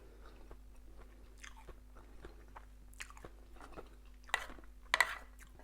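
Crispy taco with spiced filling and cheese being bitten and chewed close up, soft crunching bites building to two sharper crunches near the end, with no talking.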